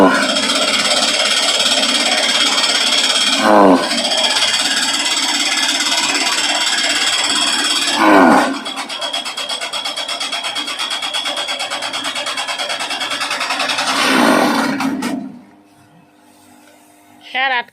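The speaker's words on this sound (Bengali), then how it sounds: "দেখো মেশিন দিয়ে কেমন করে কাটে" A machine chops rice straw into short pieces for mushroom growing, running loud and steady with a dense mechanical whir and rattle. Brief surges mark straw being fed, and it cuts out near the end, with speech mixed in.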